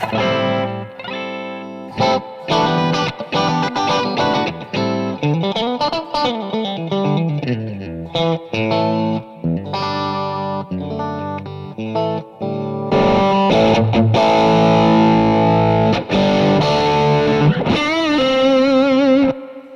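Clean electric guitar tone played through an AMP1 amplifier, a continuous run of chords and picked notes with shimmering effects that swells louder in the second half, no talking.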